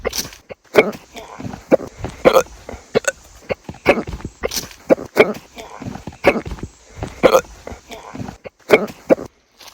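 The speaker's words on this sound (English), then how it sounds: "I suddenly contrasted the worst case of hiccups that I've ever had" A man outdoors while hunting for snakes has a bad case of hiccups, with sharp, loud gulping hiccups repeating at irregular intervals about once a second across a long run.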